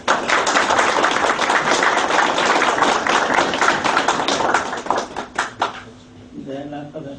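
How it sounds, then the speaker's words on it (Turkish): An audience claps loudly for a teacher at a foundation's fourth anniversary event, dense applause sustained before thinning into scattered claps and giving way to a speaking voice. "Büyük alkışlarınız hocam için."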